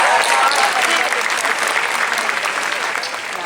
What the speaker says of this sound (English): make sure you give them a round of applause